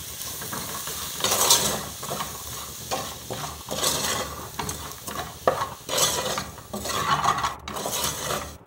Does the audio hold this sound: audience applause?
no